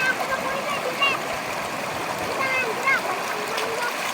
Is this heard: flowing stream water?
yes